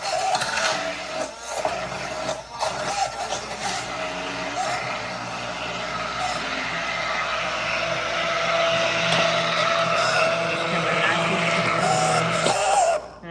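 A hand blender whirs steadily while blending hummus in a bowl, a continuous loud motor drone lasting the whole stretch with slight shifts in pitch as the blade moves through the thick paste.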